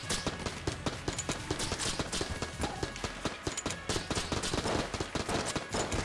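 Gunfire in the video game Enter the Gungeon comes as dense, rapid, fairly loud volleys of popping shots that repeat in a steady rhythm throughout.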